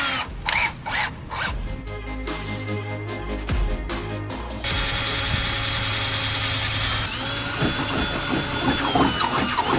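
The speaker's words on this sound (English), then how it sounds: "hopefully my jigsaw is power enough to do it" A jigsaw cuts a hole through the sheet-metal body of a Ram ProMaster van, with a loud, continuous rattling and grinding buzz. Clanks and shifts in pitch break into it as the blade works through the panel.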